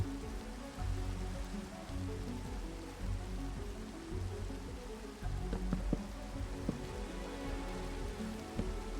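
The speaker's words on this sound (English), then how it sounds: "Oh no, it's raining." Faint, steady patter of rain falling on a surface, with scattered drips and low background rumble.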